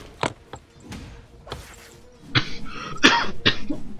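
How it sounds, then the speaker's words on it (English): A commentator casting a Dota 2 match coughs several times in short separate bursts, then a louder cluster of harsh coughs and throat clearing, close to the microphone. "Please excuse my cough."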